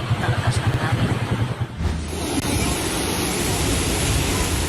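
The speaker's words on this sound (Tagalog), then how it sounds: "Malalakas na bugso ng hangin din ang naranasan sa Labo Camarines Norte, bunsod ng Super Typhoon Uwan." Strong gusting wind and rain from Super Typhoon Uwan in Labo, Camarines Norte, a loud broadband rush that pulses in gusts and then settles into a steady roar.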